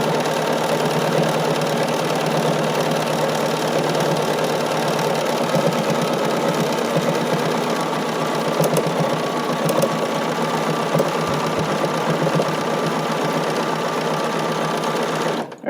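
An embroidery sewing machine stitches a quilted leaf pattern in one loud, unbroken mechanical whir with a fast needle rhythm, close by and steady until it stops abruptly at the end.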